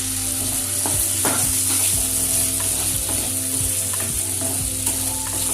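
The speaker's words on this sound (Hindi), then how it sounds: "थोड़ी देर तक इसको भून लेते हैं।" Chopped potatoes fry in a pan with tomato and rock salt for sabudana khichdi, making a steady, close sizzle throughout with occasional soft stirring scrapes.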